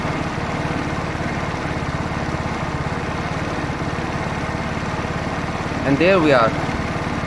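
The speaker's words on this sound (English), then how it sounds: "we have to increase the RPM so that the engine does not die on itself once we are tuning the engine" A 50cc petrol scooter engine idles steadily during carburetor tuning, a low continuous drone that runs the whole time beneath a voice, with a short rise near the end.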